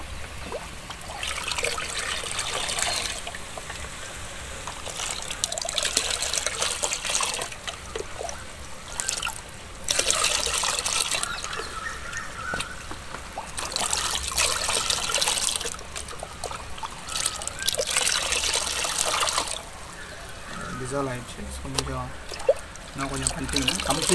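Water from a 10-liter batch of RO water trickles and pours steadily while NPK hydroponic nutrients are dissolved in it, with a broadband wash that surges and eases over the length of the clip.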